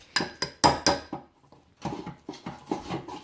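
Spoon scraping mug cake batter, heard as a few sharp clinks and taps followed by a run of softer rhythmic scrapes and knocks, close and fairly quiet.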